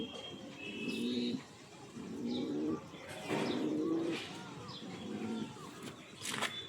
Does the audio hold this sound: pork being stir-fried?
no